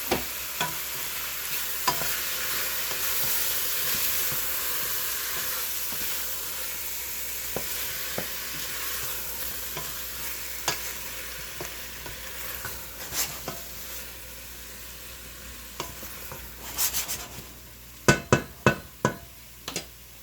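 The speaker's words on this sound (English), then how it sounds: "I'm just gonna let those onions and celery cook down a little bit." Carrots, onions and celery fry in a small soup pot with a steady, close sizzle throughout, punctuated by occasional spoon taps and scrapes, and a cluster of sharper knocks toward the end.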